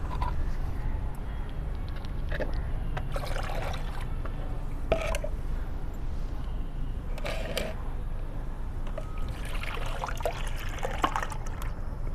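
Water trickles and pours steadily into a container as it is mixed with humic acid for a homemade plant growth promoter, with occasional splashes and clinks over a constant low background noise.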